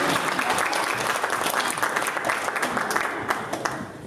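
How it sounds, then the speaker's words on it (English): Audience applause at a talk, dense continuous clapping from a full room, loud and even throughout. "give him a round of applause"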